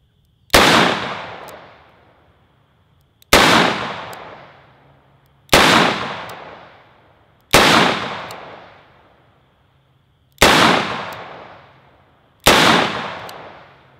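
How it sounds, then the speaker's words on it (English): Six loud, close .44 Magnum shots from a Smith & Wesson 629 revolver fired double action, each a sharp crack with a ringing decay, spaced about two seconds apart. "let's go ahead and shoot these"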